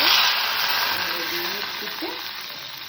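Mustard seeds splutter and crackle in hot oil, a bright continuous sizzle that gradually eases, heard up close with no talk.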